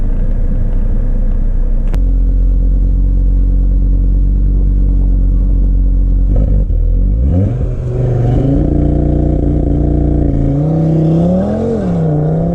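An Audi RS3 engine idles with a steady low rumble, then revs up and holds at a limiter, the pitch rising and wavering in repeated surges; loud and close, with no voices.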